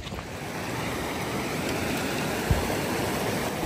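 A mountain river rushes on the slopes of Kilimanjaro at high altitude, producing a steady, full, close roar of flowing water with no breaks and no voices.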